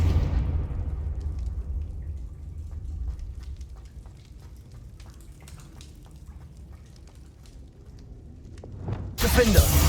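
A Confringo blast in Hogwarts Legacy bursts out as a loud low explosion that rumbles and crackles while fading over several seconds, followed near the end by a second sudden hit.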